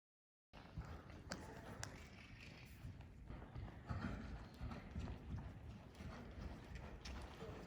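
A horse's hooves clip-clopping in a steady walking rhythm, close by and moderately quiet, with faint ambient noise around it.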